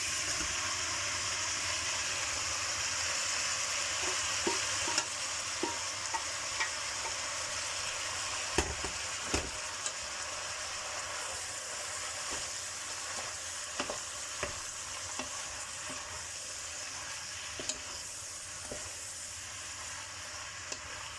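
Vegetables stir-frying in a pan for Thai chicken, a steady bright sizzle throughout with scattered clicks and taps of a utensil against the pan, close and continuous.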